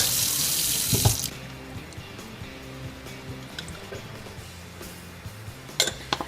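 A hot water tap runs into a kitchen sink while a container with its cap nearly closed is filled and swished out two or three times, a loud broadband rush in bursts with splashes and a few clinks, no talking.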